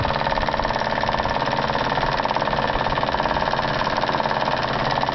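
A small PM Research dynamo runs steadily, driven by a motor opened up to full speed, giving a continuous, loud, even mechanical hum with a fast rhythmic pulse throughout.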